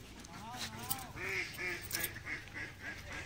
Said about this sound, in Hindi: और देखिए वो जो बतख क्वैक क्वैक सब चिल्ला रहा है